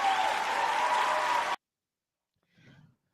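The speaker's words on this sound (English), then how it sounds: "Come on, clap it up, clap it up, clap it up." An audience claps for Joe Turner in a dense, even burst of applause for about a second and a half, which cuts off abruptly to near silence before a faint low murmur.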